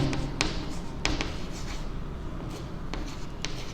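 A pen writes out a math solution by hand on paper, making soft scratchy strokes with a few brief sharp taps, quiet and close.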